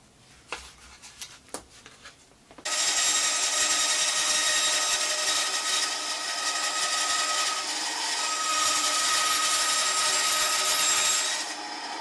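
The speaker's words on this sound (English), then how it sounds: "put it on the router table so it'll give me a reasonably good finish on the edge" A router table trims the edge of an acrylic sheet, a loud, steady high-pitched whine cutting in after a few light knocks and running about nine seconds before stopping.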